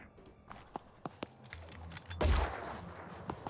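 The Gunslinger firing in the video game Phoenix Point: one loud, booming shot with a lingering rumble, preceded by faint sharp clicks.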